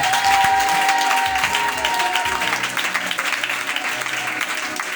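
A church congregation claps loudly to acclaim the Lord, a dense burst of applause with some voices mixed in, tapering slightly over five seconds.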